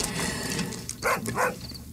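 A dog by a house gives two quick, close barks against a busy murky background of ambient noise, with no one talking.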